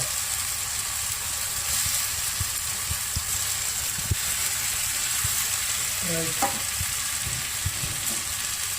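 Prawns sizzle steadily in a hot pan for a prawn curry, with occasional scraping stirs of a spoon against the metal rising above the constant close frying hiss.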